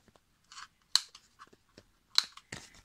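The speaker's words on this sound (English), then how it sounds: "I'm gonna cut corners," Scissors trimming the corners off a card collage postcard: a handful of crisp, close snips with short quiet gaps between them.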